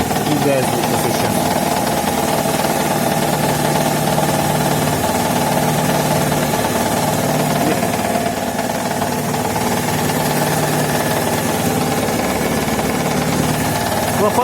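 A Chevrolet Lacetti 1.6 engine idles steadily up close with a constant hum and vibration, while faint rapid valve knocking ticks under the running engine.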